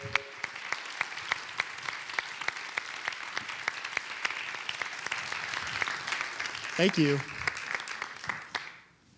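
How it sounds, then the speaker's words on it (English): An audience at a tech talk event applauds steadily with distinct claps throughout, while a voice briefly speaks over it near the end before the clapping fades out. "much deserved round of applause"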